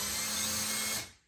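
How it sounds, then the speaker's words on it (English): A power drill boring a small test hole up into a wood ceiling to locate a joist, a steady loud whine that runs about a second and then cuts off abruptly. "go ahead and drill a little hole in it."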